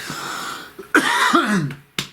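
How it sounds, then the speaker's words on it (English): A few harsh, raspy coughs from one nearby person, with short gaps between them and no talking. "I don't know why I've been coughing so much these past few readings."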